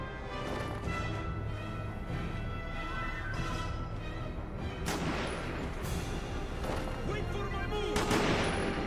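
Gunfire in the PS3 game 007 Quantum of Solace: dense, continuous shooting and sharp reports over a busy background of game music and effects, with a louder cluster of shots near the end.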